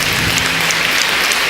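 A church congregation claps in praise, a steady, loud, dense wash of applause that holds without a break.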